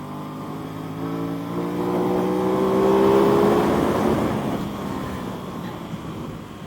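A 2021 Aprilia RS660 motorcycle engine lugs at low revs, around 3,500 RPM in third gear, on a race track, a steady droning hum that swells slightly and then eases, heard close with no talk.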